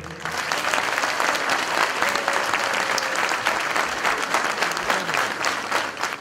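Sustained audience applause after a song at a memorial concert performance, dense and steady clapping filling the room for several seconds at constant loudness.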